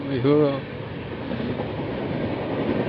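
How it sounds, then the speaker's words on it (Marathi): A train rumbles over a railway bridge above a road near Kelva dam during a motorbike ride. A low, continuous rolling drone follows a brief voice at the start. "अरे ट्रेन चालली वरतून धुडूम धुडूम"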